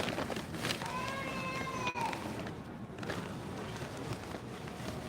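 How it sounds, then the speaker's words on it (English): A cat meowing, one drawn-out rising and falling meow close by, followed by quieter street-like background noise and a sharp click. "Who's that, a cat?"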